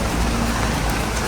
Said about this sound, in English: the rain was really coming down by this point